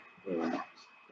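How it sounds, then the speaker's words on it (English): A dog gives a single short whimpering yelp, close and fairly faint, lasting well under a second against a quiet background. "A baby dog is called a puppy."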